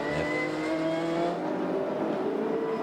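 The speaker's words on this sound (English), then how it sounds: "Keep it very tight, because here comes Jim down the inside." Touring cars roar past at high revs at Amaroo Park in a 1992 race heat, engines whining and overlapping as several cars sweep by close together, loud and continuous.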